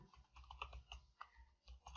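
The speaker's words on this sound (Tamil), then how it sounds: "நான் ஏதோ ஒன்று டைப் பண்ணுவோம் முதல்ல" Someone types on a computer keyboard while writing Python code, a faint, steady patter of close key clicks with no talking.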